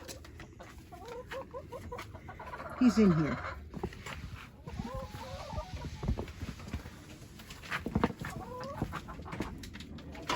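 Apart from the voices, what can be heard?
chickens clucking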